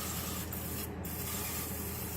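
A Misto oil mister sprays olive oil over chicken wings, a steady close hiss of fine mist lasting about two seconds with no talking.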